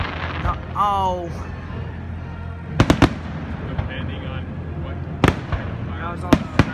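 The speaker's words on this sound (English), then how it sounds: "they launch them all at once because that's the finale" At a 2017 Stanford fireworks show, many shells launched together for the finale produce a dense crackle, whistling rockets and repeated sharp booms at a distance.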